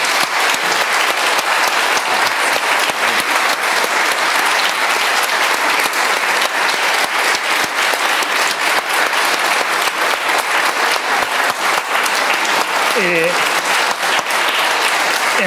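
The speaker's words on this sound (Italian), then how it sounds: "Chiederei quindi un applauso al professor Alessandro Barbero." Sustained applause from a lecture audience honoring historian Alessandro Barbero, dense steady clapping filling the hall for the whole stretch, with a few cheers surfacing near the end.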